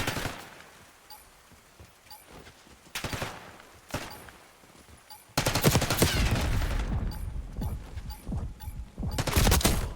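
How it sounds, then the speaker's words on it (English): A video game gunfight with repeated sharp gunshots, scattered single shots at first, then dense, loud bursts of rapid fire that continue almost without a break. "Let's have one more gunfight, then we'll talk."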